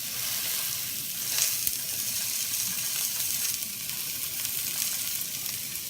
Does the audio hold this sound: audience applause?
no